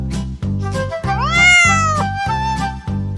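A domestic cat lets out a loud, close meow with a long drawn rise and fall, set against a steady pulsing background beat that repeats throughout.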